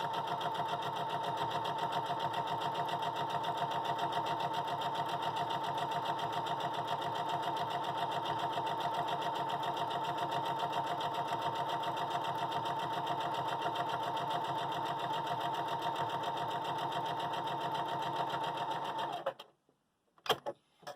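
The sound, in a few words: sewing machine stitching quilt pieces with neutral thread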